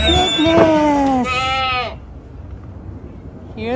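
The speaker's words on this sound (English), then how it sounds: "Here they are, the two sisters and the billy goat." Goats on a farm, two nanny sisters and a billy goat, give several loud, close, wavering bleats in quick succession, followed by a quieter pause and one more bleat at the end, with a person talking nearby.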